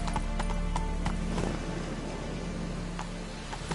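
Horse hooves clip-clopping at a steady trot in the video game The Witcher 3, a regular close rhythm over a constant low rumble of game ambience.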